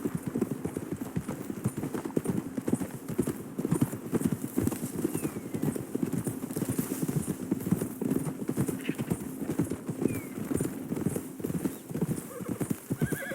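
Horse hooves in Red Dead Redemption 2 clip-clop in a fast, steady gallop rhythm throughout, close and continuous, with other game sounds mixed in underneath.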